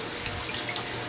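An onion rinsed under running water while chicken kosha is cooked, a brief, close, steady splashing stream from a tap with no talking.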